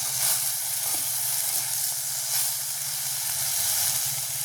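Food sautés in a covered village cooking pan, giving a steady, moderately soft sizzle and hiss with faint stirring scrapes and no talk.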